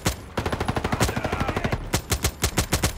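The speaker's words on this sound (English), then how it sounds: "Why am I shooting one shot with this weapon?" A gun fires in a Roblox Call of Duty-style video game, a loud close stream of rapid rhythmic shots that briefly slows, then returns as a regular burst.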